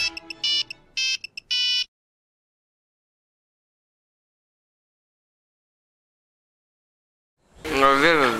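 A mobile phone message tone plays a quick series of bright chiming beeps in short bursts, followed by silence and then a person starting to talk.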